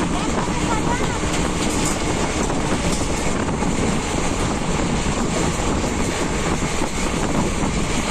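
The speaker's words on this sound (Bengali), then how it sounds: "ট্রেনটি" A train running toward Farakka during a monsoon journey, with a steady, loud rumble and clatter filling the whole clip without a break; no talking is heard.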